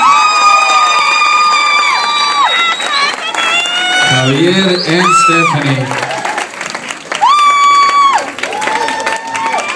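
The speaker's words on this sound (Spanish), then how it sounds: "un fuerte aplauso para Stephanie and Javier" A crowd at a bachata dance performance applauds and cheers for the dancers, with loud whoops and shouts rising over sustained clapping while an announcer speaks over it.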